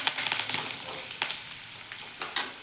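Curry leaves drop into a pan of reddened fried garlic, crackling and spitting in quick, uneven bursts over a continuous close sizzle.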